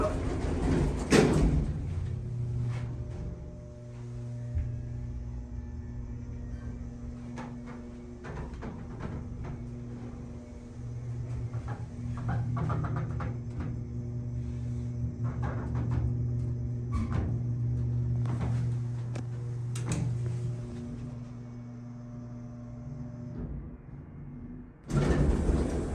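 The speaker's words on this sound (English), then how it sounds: "Jeez, those doors slam." Schindler Haughton hydraulic elevator doors in a parking garage slam shut with sharp, loud bangs near the start and end, separated by a long stretch of low motor hum and faint rattles from the moving car.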